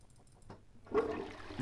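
Toilet flushing in a video game, a faint quiet lead-in followed by a sudden rush of water that stays steady to the end.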